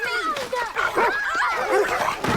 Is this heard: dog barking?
yes